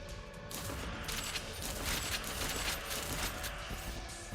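Sustained full-auto gunfire in a video game after a weapon upgrade: rapid, continuous bursts of shots rattle steadily throughout, loud and close, with no talking over them.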